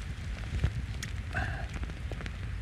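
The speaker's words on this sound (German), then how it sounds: "Grau mit Regen." Rain falls outdoors on a grey day during a qigong session, with a steady soft patter and hiss and a few faint brief sounds on top.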